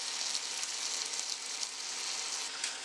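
Garlic sizzles steadily in hot browning sauce coating pelau meat with bay leaves and clove powder, a constant close crackling hiss with no speech.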